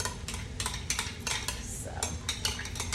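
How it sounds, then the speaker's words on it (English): Eggs stirred into a pan of shrimp fried rice, with a spatula scraping and clattering against the pan in steady repeated strokes and a faint sizzle underneath, close and continuous. "I'm gonna add my eggs now."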